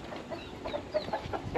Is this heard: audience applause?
no